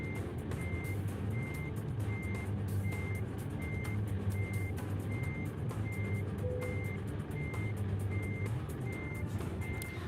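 A truck's reversing alarm in a trucking simulator game: evenly spaced, high electronic beeps repeat steadily over a low, constant engine drone, with no talking.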